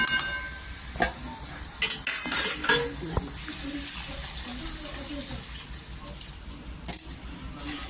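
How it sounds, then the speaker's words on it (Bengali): A little water goes into a paneer curry in a pan, with metal pot and utensil clatter and a few sharp clanks early on, then a softer wet hiss and splashing that continues to the end. "এর মধ্যে আমি অল্প জল দিয়ে চাপা দিয়ে দেবো।"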